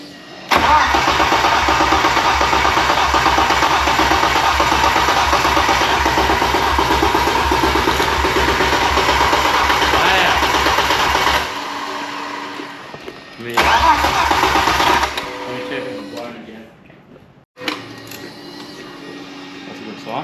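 A rebuilt 500 kW sleeper car engine with its turbo refitted cranks and fires, then holds a loud, steady idle close by before cutting out and restarting briefly at a lower rumble.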